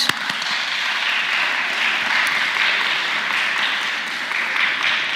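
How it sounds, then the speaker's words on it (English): A debate audience gives a calibration clap, a dense, continuous burst of applause that starts abruptly and holds at an even level throughout. "So can we do a calibration clap so that we get a norm?"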